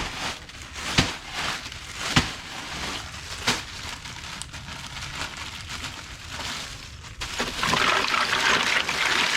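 Water runs and splashes into a container while an ice bath is made for cooling home-brewed wort, a quiet trickling broken by a few sharp knocks and building to a steadier, fuller rush near the end.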